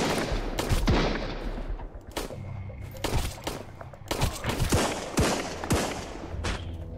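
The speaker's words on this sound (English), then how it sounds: "somebody's shooting at me, but I have no idea where they are" Gunfire in the survival video game Sunkenland at night: sharp, loud shots crack in irregular bursts and volleys, some close together like rapid fire, over a steady low background rumble, with no voices.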